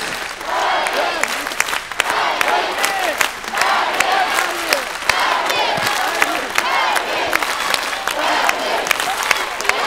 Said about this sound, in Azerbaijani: Bizim qəhrəmanımızı, iştirakçımızı alqışlarla yola salaq dostlar.